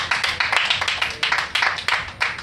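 A church congregation claps in a steady, rhythmic beat, a close run of sharp, evenly spaced hand claps lasting a couple of seconds with no talking over it.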